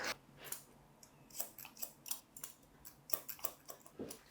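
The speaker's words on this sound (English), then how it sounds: "The sound of the scissor, can't you?" Scissors snip repeatedly through thick long hair in quick, crisp bursts, close and fairly quiet, with irregular pauses between cuts and no talking.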